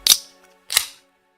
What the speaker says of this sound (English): My V8 energy drink. So if you hear something crack, that's what that is.